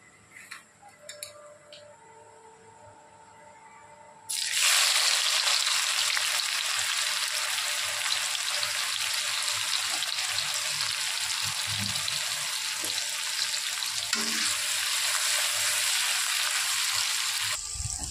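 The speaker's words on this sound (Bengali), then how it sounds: "এবার আমি এই পেঁয়াজটা দুবার কি 3 বারে ভাজবো।" Sliced onions hit hot oil in a pan, set aside for chicken biryani, and burst into a loud, steady sizzle that runs unbroken after a few quiet kitchen clicks.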